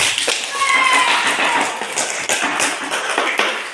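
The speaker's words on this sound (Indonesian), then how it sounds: "Mari kita berikan aplaus untuk kita semua ada kali" A class applauds together, a steady patter of many hands clapping at close range, with a few voices and a whistle-like tone mixed in.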